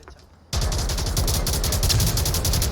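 A flashbang grenade goes off in a competitive Onward VR match: after a half-second of quiet, a sudden loud blast gives way to a harsh, sustained roar of noise that stays loud to the end.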